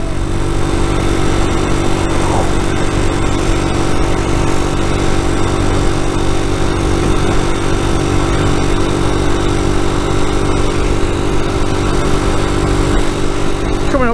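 A small group of motorcycles rides along a level country road, engines droning loudly and steadily up close with constant wind rush, no voices heard.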